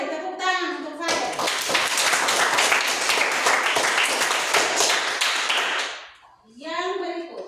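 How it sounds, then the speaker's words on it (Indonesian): Schoolchildren clapping together in a classroom, a loud, dense burst lasting several seconds that stops abruptly, with a teacher speaking before and after. "Tepuk tangan untuk dia."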